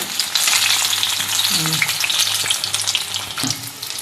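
Chili bajji sizzling steadily in hot oil, a loud close crackle of frying with occasional faint stirring clinks and no talking.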